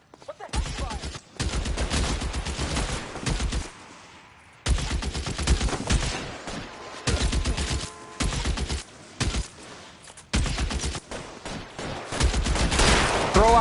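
A shootout in L.A. Noire, with repeated loud bursts of close gunfire separated by short pauses, a brief shout breaking in between volleys.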